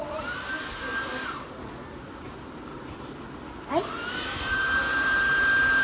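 A hair dryer blows air on a child's hair, a steady broadband whooshing rush that dips and returns with a brief knock midway, close and continuous, with faint voices in the background.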